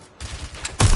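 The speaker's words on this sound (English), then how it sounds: "Shots fired!" Rapid gunshots in the Watch Dogs video game, a short burst of sharp cracks ending in a louder, heavier blast, close and dominant.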